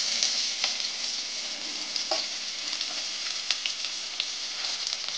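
Onions fry in oil in a wok for cholar dal, giving a constant bright sizzling hiss scattered with small pops and crackles, close and steady with no voices.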